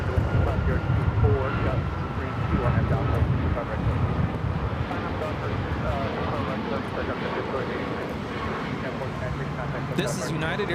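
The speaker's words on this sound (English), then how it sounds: "This is United Airlines 1496 taking off to Cleveland on the MAX 8" United Airlines Boeing 737 MAX 8 taking off from LAX for Cleveland, a continuous jet engine rumble and roar sustained in the background while people talk over it.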